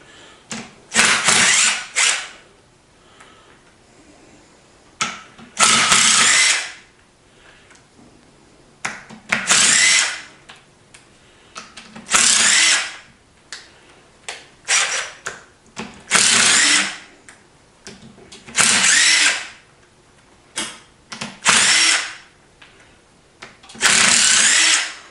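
Power tool bursts in a regular rhythm as bolts come off the bottom plate of a Lima drive gearbox, roughly eight loud ratcheting, whirring runs of about a second each, separated by brief quiet gaps with faint clinks, close by.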